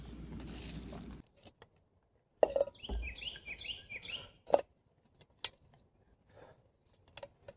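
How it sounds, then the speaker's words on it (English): Birds chirp and sing in short bursts amid quiet surroundings, with a few sharp clicks and taps scattered between the calls. "I was just so happy to hear some birds singing and feel some sunshine."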